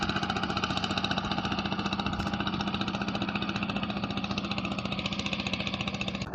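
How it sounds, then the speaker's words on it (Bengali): A fishing trawler's diesel engine thumps in a fast, steady pulsing rhythm on a river, loud and close throughout, with no voices. "দেখুন এই একটা ট্রলার কি জোরে যাইতেছে"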